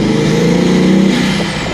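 A Bugatti Veyron accelerates hard from a standstill, its engine giving a loud, close, deep roar that rises briefly and then eases slightly.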